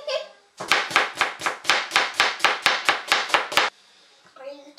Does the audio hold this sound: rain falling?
no